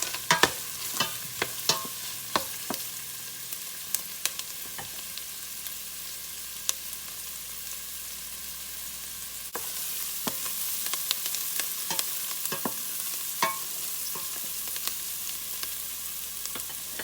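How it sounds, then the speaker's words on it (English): Onions for broccoli cheddar soup cook in a pot with a steady low sizzle, broken by scattered sharp clicks and scrapes of stirring. No voices are heard. "now that my onions have started cooking"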